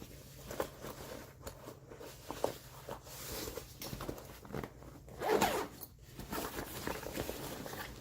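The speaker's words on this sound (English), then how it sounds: "Where's that zipper at? Up at the top." Zipper on a pocket of an urban survival bag being worked open, a series of close, scratchy zipping pulls with brief pauses and soft handling rustle between them.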